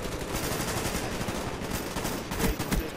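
Sustained AK-47 fire in Call of Duty: Black Ops forms a dense, loud, continuous rattle of automatic shots, with a few heavier bursts near the end and no talk over it.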